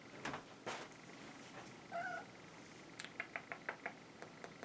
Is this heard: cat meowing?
yes